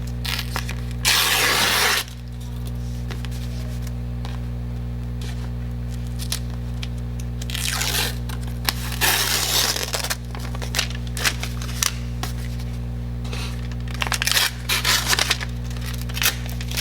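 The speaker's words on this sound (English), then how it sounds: "So I take my nails and I kind of scratch it, and then it begins to peel like that." Fingernails scratch at sticky embroidery stabilizer and peel its backing paper away in a few bursts of crackling, tearing rustle, close and fairly loud over a steady low machine hum.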